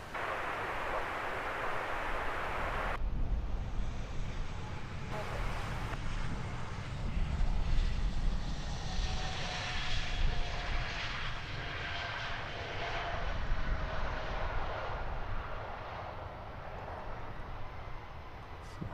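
A Ryanair Boeing 737-800 airliner takes off from Luton Airport bound for Malta, its jet engines producing a sustained broad roar with wind buffeting the microphone, steady from a moderate distance throughout.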